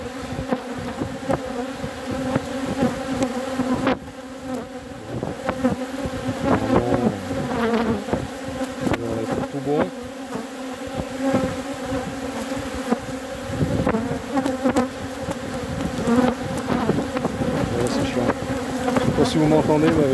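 A steady swarm of bees drones and buzzes continuously, close and fairly loud, with individual insects whining past.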